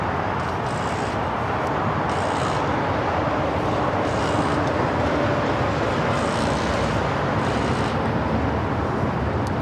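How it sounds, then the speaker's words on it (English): A United Dreamliner airliner rolls for takeoff down runway 25 right at LAX, a steady, broad roar of jet engines heard from a distance and holding at even loudness throughout, with no speech over it. "We got that United Dreamliner now rocking and rolling down the 25 right."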